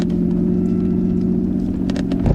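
A Pandem-kitted Nissan R32 Skyline idling right after start-up, already warm: a loud steady low engine drone close by, with a small rev bump near the end.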